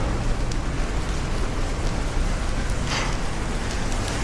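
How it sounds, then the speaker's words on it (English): Long, steady soaking rain on a night in Manila, a dense even hiss of drops on surfaces that stays loud and unbroken throughout, with no voices. "This is a long soaking rain."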